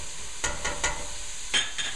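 A spoon stirs garlic and vegetables sautéing in a pan for a homemade Bolognese sauce, giving several soft scraping strokes over a steady, gentle sizzle, close up.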